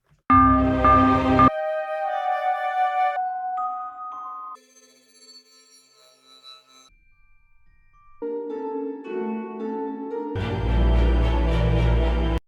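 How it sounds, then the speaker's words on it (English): A synthesized bell track soloed in a Cubase music production session sounds loud, clear, sustained tones and chimes in separate phrases, with short gaps and a ringing tail, alone and with no voices. "now we want to listen to the bell all the time"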